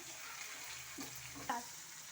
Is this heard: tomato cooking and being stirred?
yes